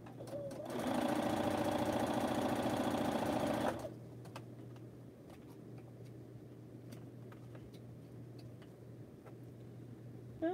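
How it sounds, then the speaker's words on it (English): A sewing machine stitches fabric scraps together in a steady, loud whirring run of a few seconds, then stops, leaving quiet room tone with a few faint ticks. "I'll just sew some stuff together that don't go together."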